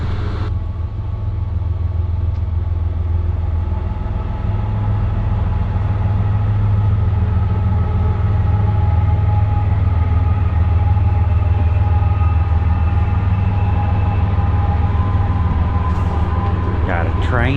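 A long freight train rumbles steadily through snowy Appalachian mountain woods near a remote river, a low continuous roll of wheels and cars that grows louder toward the end.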